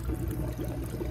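Water draining from aquaponics grow channels in a deep water hybrid growing system, a continuous gurgling pour and trickle, close and fairly steady.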